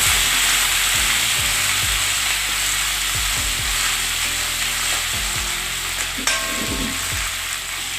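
Two chillies, curry leaves and crushed ginger and garlic sizzle in hot oil after mustard seeds have popped for a masala curry. A loud, steady frying hiss runs throughout, broken by regular scraping strokes of a spoon stirring the pan.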